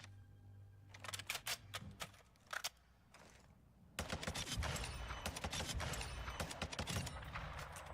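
Gunfire from a weapon in the video game Warzone, fitted with high-velocity ammunition and no barrel attachment: a few short sharp bursts, a pause, then a long sustained automatic stream of rapid shots.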